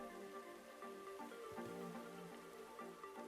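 Faint, steady rain falls in the Minecraft modpack GregTech: New Horizons, a soft continuous patter under the game's background ambience.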